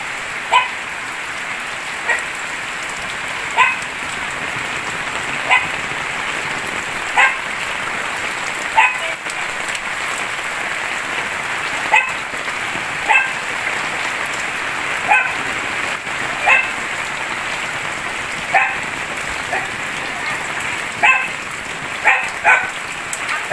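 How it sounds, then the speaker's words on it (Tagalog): Heavy rain pours steadily during a flood with a constant dense hiss, while a dog barks in short, regular bursts throughout. "At lumalakas na naman po yung ulan."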